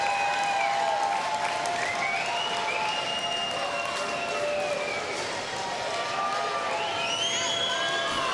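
Crowd at a Lehigh Valley Outlawz versus Chesapeake Tide football game cheers and roars steadily throughout, a dense, continuous wash of voices with whistles and shouts rising above it.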